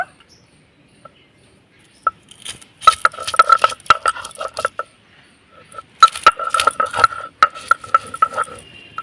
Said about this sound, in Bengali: কাসুন্দির জন্য কিছুটা কাঁচা লঙ্কা বেটে নেব।